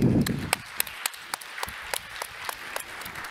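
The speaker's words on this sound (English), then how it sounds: "a warm applause for our rector" Applause for the rector at the opening session of a university forum, fading from a fuller burst into a thin scatter of individual claps spaced out across the room.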